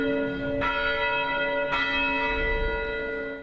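A newly restored church steeple bell in Portland, reinstalled after a tornado, rings out in two loud, resonant strikes whose long humming overtones sustain and overlap between blows.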